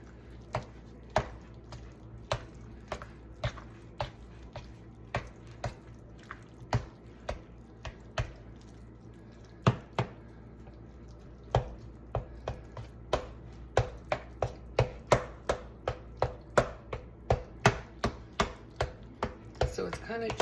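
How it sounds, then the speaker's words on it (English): Couscous is mixed and broken up for thiakry, a West African dessert, with a spoon producing a long series of sharp, moist taps and squelches against the bowl that come irregularly at first, then in quicker bursts, close and alone. "so I'm kind of breaking it up as I'm mixing it as well"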